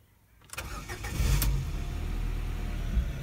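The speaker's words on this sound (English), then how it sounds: "So the engine starts really nicely." A Ford Focus MK2.5 with a 1.6 Zetec engine cranks and fires up after a quiet start, then settles into a steady, close idle hum for the rest of the clip.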